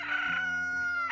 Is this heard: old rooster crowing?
yes